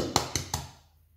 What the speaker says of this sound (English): I'm going to crack in my egg